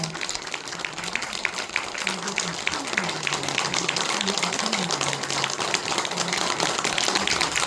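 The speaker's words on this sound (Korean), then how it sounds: "여러분 큰 박수로 네, 축하해 주시기 바랍니다" An audience at a Buddhist temple food group's launch ceremony claps for a flower bouquet presentation to a venerable nun, giving dense, sustained applause, with a faint tonal murmur underneath.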